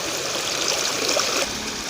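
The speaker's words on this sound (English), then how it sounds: "Who would take a bath in this river?" River water flows in a steady, broadband rush with light trickling and gurgling detail, close and continuous, with no voices over it.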